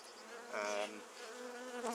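A honey bee swarm buzzing close by, with a steady, dense droning hum that swells briefly midway.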